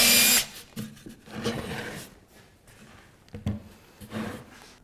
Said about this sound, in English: flip it over and drill the other way